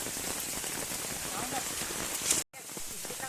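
Steady rain falling outdoors over flooded coastal fields, a dense continuous hiss of drops striking water and ground at an even level, broken by a brief dropout near the end.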